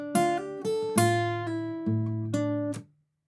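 Clean guitar picks a short minor pentatonic lick with a pull-off, sounding a quick run of bright, close notes over a held low bass tone before ringing out into silence.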